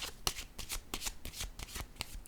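A deck of playing cards riffle-shuffled up close, giving a quick series of crisp fluttering bursts in steady rhythm, fairly quiet, with no talking.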